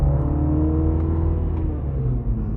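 A 2022 Mini Cooper JCW engine revving with intake noise, a loud, steady, close throaty drone with a rising tone.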